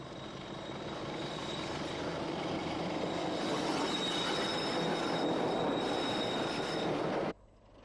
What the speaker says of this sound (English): C217 runs round her train at Baltimore.